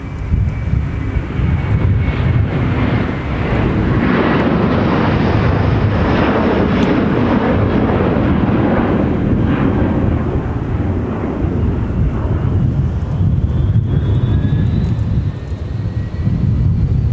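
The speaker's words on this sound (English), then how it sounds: "There goes Delta 10 Heavy off to London Heathrow" Delta 10 Heavy, a heavy jet airliner, departs Minneapolis–St. Paul for London Heathrow with a loud, sustained broadband engine roar and rumble that holds steady throughout, buffeted by wind noise on the microphone.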